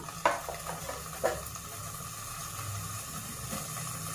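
Green chillies and onions fry in hot oil in a pan for a Rayalaseema chicken gizzard fry, a faint steady sizzle with two soft stirring clinks near the start.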